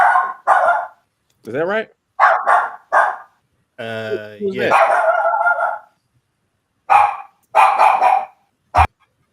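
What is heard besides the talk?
dog barking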